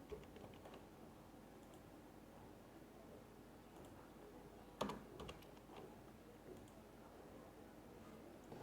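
Soft, quick typing on a computer keyboard, a steady patter of light key clicks at close range with one brief louder clatter midway, fairly faint overall and with no talking.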